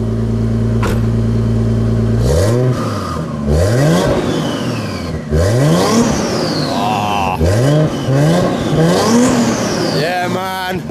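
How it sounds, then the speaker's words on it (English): A slammed twin turbo Toyota Soarer revs loudly several times in short rising and falling bursts, close by, with its idle rumble between blips and no talk over it. "Couple of little revs."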